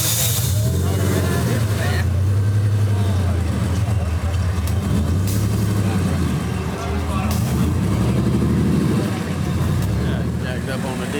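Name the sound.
lifted diesel truck engine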